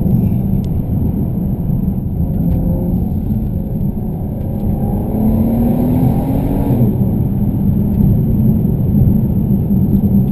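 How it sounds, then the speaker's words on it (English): 2015 Volvo V60 Polestar engine pulling under acceleration, a steady loud rumble heard from inside the cabin with the engine note climbing gradually over ten seconds and no talk. "There's no escaping the performance of the engine though,"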